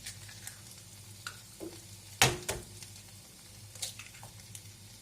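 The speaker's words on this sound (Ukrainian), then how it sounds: "Обережно додаємо яйця, щоб скорлупа не попала." Eggs drop into a hot frying pan over potatoes and ketchup, giving a soft, low sizzle with scattered clicks and one sharp crackling burst midway, fairly quiet throughout.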